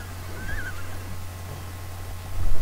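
A horse neighs in the Sims 3 video game: a short, fairly faint whinny early on over a steady low in-game hum, with no talking.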